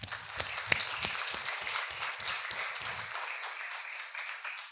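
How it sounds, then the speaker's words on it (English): Audience applause for award recipients at an academic awards ceremony. A modest number of people clap with distinct, separate claps that thin out and stop after about three seconds, leaving quiet room tone. "Can we have a round of applause for all of our award recipients,"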